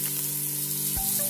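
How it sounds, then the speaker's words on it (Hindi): Sliced onions hit about five tablespoons of hot olive oil, giving a close, continuous hiss with a low steady hum beneath, and no voices. "स्लाइस की भी ऑनियन डालेंगे"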